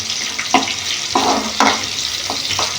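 Ivy gourd (dondakaya) fries in an oiled pan with a close, steady sizzle, broken by several louder scraping stirs at irregular intervals.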